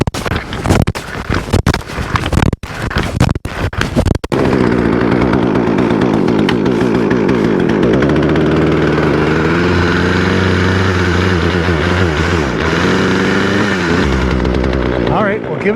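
A repaired petrol chainsaw after a few sharp pull-start bursts settles into a steady, loud, buzzing two-stroke idle that runs on evenly with slight wavering, close by, and a person talks over it.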